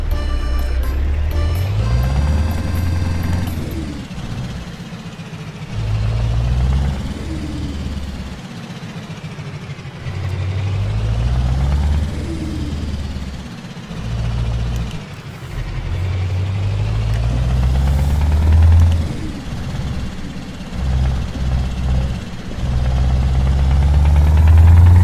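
A heavy truck engine in the driving game Euro Truck Simulator 2 drones loud and low, its pitch climbing and dropping in repeated steps as it revs through the gears, with no voices over it.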